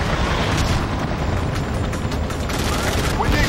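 Dense, loud gunfire and booming explosions from the PS2 game Battlefield 2: Modern Combat during a harbor assault, a continuous roar of shots and blasts with no pause.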